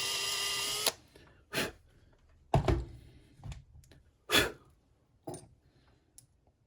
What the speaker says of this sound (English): we can drill it one more time.